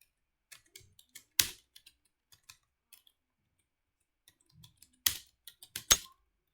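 Keys on a computer keyboard with a faulty space bar are pressed in scattered bursts of clicks, with a few louder, sharper strikes standing out near the start and end; no one speaks.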